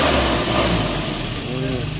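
A 1987 Toyota Kijang engine runs with a steady idling hum while someone talks over it.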